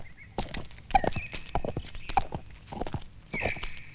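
A horse carrying a rider clip-clops along in an Indian historical drama, with close, irregular hoof strikes and a brief whinny, and a rising tonal sound near the end.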